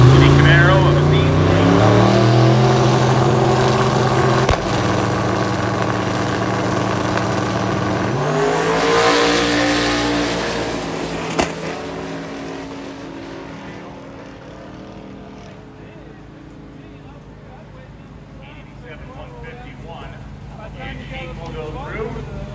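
Ford Mustang and Chevrolet Camaro drag racing at Hot Rod Drag Week, loud engines roaring past with falling pitch before fading into the distance as the pass ends.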